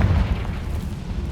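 A Confringo fire spell bursts in Hogwarts Legacy with a deep, rumbling blast that rolls on steadily and loud for the whole moment, with no one speaking over it.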